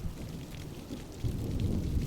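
Steady rain falling in the Farming Simulator 25 game world, a dense even patter that swells a little louder halfway through, with low rumbling underneath and no voices.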